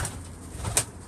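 A pigeon bursts into flight, with a short flurry of wing flaps standing out against steady outdoor background noise.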